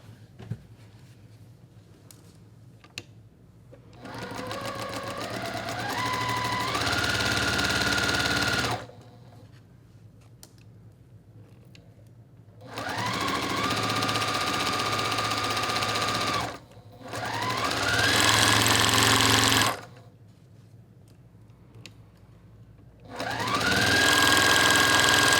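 A sewing machine stitching seams on bright Spangled quilt blocks, running in steady motor bursts several seconds long that rise in speed, separated by quiet pauses, close and clear.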